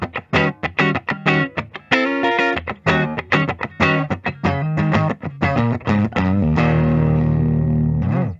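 A 2015 Gibson Custom Joe Bonamassa Bonabyrd Les Paul plays a distorted riff on its neck pickup, punchy chugged notes and chords ending in a long sustained ringing chord, loud and alone.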